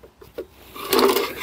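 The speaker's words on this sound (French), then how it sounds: "là je gratte avec mon tournevis qui fait la largeur de la crème" A screwdriver scrapes propolis and wax from the wooden frame rest of a beehive, between the metal rack and the wood. A few faint taps come first, then a louder, continuous rasping scrape builds toward the end.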